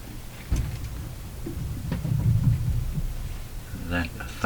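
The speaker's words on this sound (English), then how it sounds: "That thunderous sound is my cats up above." Cats thump and scamper across the floor of an upstairs room, heard from below as dull, muffled low booms and rumbles scattered irregularly, over steady radio static with a brief higher tone near the end.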